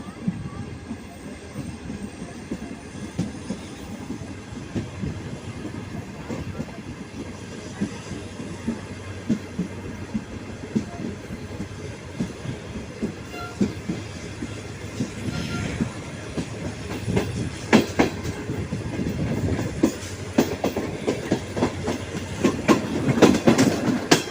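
Inside the Awam Express on the Karachi to Jung Shahi line, the carriage rumbles steadily with rhythmic clickety-clack of wheels on rail joints, growing louder toward the end, with faint voices in the background.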